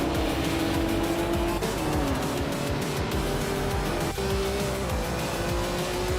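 Racing game engine roar from a 1955 Mercedes-Benz 300 SLR race car, a loud continuous whine with shifting pitch and brief tire squeal, with other cars nearby throughout.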